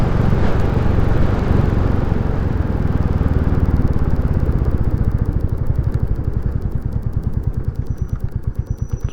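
A Royal Enfield Classic 350 motorcycle engine holds a steady drone, then settles into a rapid, pulsing putter as the revs drop under engine braking on a steep downhill, loud and close throughout.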